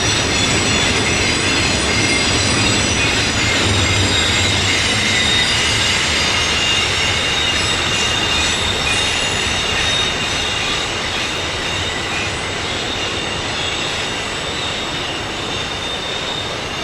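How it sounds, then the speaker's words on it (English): A Chicago-bound double-stack freight train climbing Sandpatch Grade in the Alleghenies: a loud, continuous rumble of rolling railcars with squealing wheels, passing close by without letup. "As the Chicago-bound stack train faded into the Alleghenies"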